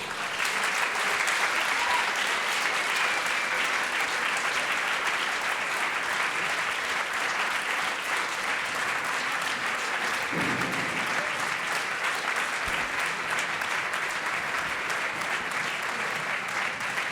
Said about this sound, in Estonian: Palun aplaus!